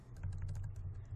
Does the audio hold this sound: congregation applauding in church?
no